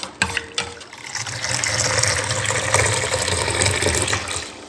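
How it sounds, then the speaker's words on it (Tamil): Cooled milk pours for a chocolate milkshake, a steady gushing liquid stream that begins after a few brief splashes and runs on at moderate loudness. "நல்லா ஆற்றிடுவோம்"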